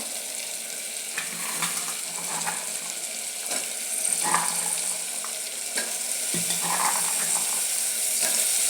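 Turkey berries being sautéed in a pan give a steady sizzle of frying, with occasional stirring scrapes and clinks of a utensil against the metal throughout.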